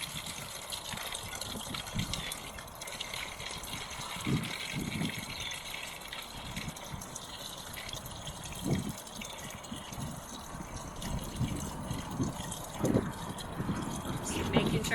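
About 1,000 millilitres of water trickles and gushes quietly into a plastic bottle rocket being filled outdoors, a faint, uneven liquid splashing with some wind noise in the background.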